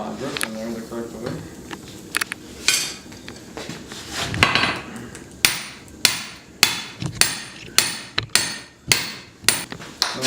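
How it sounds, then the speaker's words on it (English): A hammer beats a hatchet blank at the forge, starting with scattered ringing blows and speech, then settling into a steady run of about a dozen loud, evenly spaced metallic strikes close by. "I'm going to hammer the back side of it, flatten it out some here."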